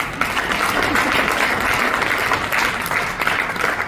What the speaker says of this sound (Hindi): तो मैं दोबारा चाहूंगा एक जोरदार ताली के लिए।